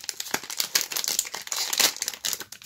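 Close, crackly crinkling of a Lego magazine's plastic packaging being handled and pulled open, with irregular rustling bursts throughout.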